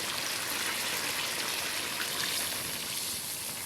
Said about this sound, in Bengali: এখন হচ্ছে সিদ্ধের জন্য জল দিয়ে দেবে।